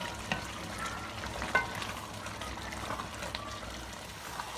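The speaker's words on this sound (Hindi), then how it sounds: "इसी तरह से चम्मच लाते हुए इसको हम भूनते जाएंगे।" Potatoes and spinach frying in a pan while a spoon stirs them, a soft sizzle with light scraping clicks and one sharper knock, close and moderately loud.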